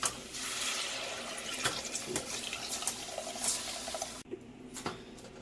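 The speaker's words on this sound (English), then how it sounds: "My next step is going to be adding my beef broth." Beef broth poured into a light roux in a pan for a mushroom gravy, a steady close-up splashing, running-liquid rush that continues for about four seconds before cutting off abruptly, leaving faint kitchen sounds.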